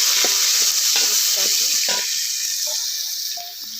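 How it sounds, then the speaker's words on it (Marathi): Tomatoes being stirred in a frying pan for a country chicken biryani make a loud, continuous close-up sizzle, with intermittent scraping strokes of the spoon breaking through the hiss. "हे नंतर आपल्याला टाकायचं आहे टोमॅटो हलवायचे आपल्याला"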